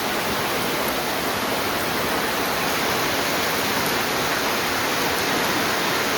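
Steady, dense hiss of rain falling continuously, loud and even throughout, with no voices.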